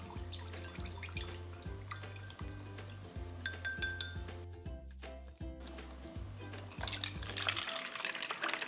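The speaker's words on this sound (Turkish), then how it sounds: "Güzelce karıştırıyorum" Homemade natural surface cleaner with vinegar and drops of fragrance being stirred in a kitchen container, giving steady scraping and clinking strokes that repeat rhythmically, close and fairly quiet, with no talking.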